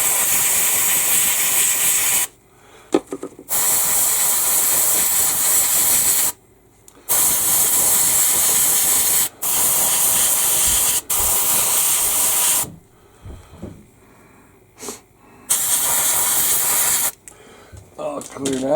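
An airbrush sprays paint onto the interior parts of an Airfix 1/72 B-17G model in a loud, close, steady hiss, broken into long bursts by several sharp stops and short silent pauses.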